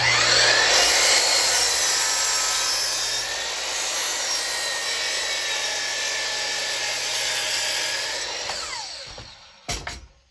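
A miter saw fitted with an 82-tooth blade cuts through a scrap of wooden stair stringer, a loud sustained high whine that slowly winds down, ending with a couple of sharp clunks.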